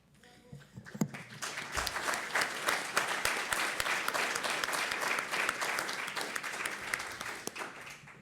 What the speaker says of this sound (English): on a chaleureusement applaudi sa présentation